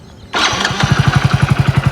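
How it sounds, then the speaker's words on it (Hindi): Motorcycle engine fires up abruptly and settles into a loud, rapid, even idle thump close by, with no talk over it. "बाइक न्यूट्रल में, ठीक है, स्टार्ट कर लो।"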